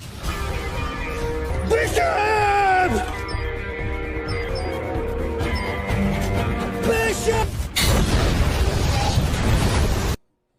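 A ship blowing up in an action film scene, a loud sustained roar of blasts and crashing debris with a sharp burst near the end before cutting off.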